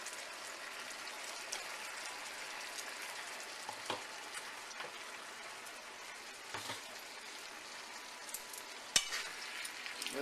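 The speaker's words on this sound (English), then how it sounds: "we're going to add our steak back in and let that simmer for another 30 minutes" Steak and onions simmering in a pan over medium heat, a soft continuous bubbling sizzle with a few faint utensil clicks, fairly quiet and without voices.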